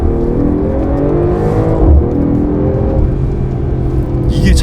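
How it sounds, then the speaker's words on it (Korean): Mercedes-AMG GT 43 4-Door exhaust note heard from inside the car while driving, a steady, loud engine drone with rising revs and a few crackling pops near the end, with no talking. "배기음이 너무 좋아"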